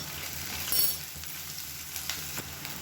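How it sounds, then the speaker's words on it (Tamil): Chopped onions and garlic sizzle as they fry in a pan, a soft, continuous hiss with a few light clinks and ticks scattered through it. "வெங்காயம் பூண்டு நல்லா வதங்கிடுச்சு. நல்லா பொன்னிறமாக வந்துடுச்சு வெங்காயம்லாம்."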